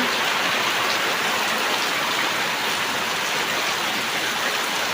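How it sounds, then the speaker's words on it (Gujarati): Heavy rain pours down steadily in a dense, even hiss that fills the whole stretch without a break, with no voices. "આજ તો ઘણા દાડે વરસાદ આવી ગયો છે"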